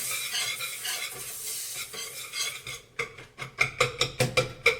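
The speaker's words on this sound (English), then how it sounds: "You're going to take your whisk and kind of mix them together." A whisk stirs cornstarch into pudding mixture in a pot, first as a steady scraping swirl and then as a string of about nine sharp, rhythmic strokes against the metal, close and fairly loud with no talking.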